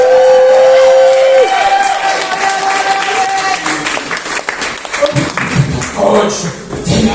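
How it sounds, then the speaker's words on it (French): Audience applause and cheering welcome a drag performer onto a comedy stage, building after a tonal intro and mixed with crowd noise and voices. "Je vous demanderai d'accueillir dans un tonnerre d'applaudissements"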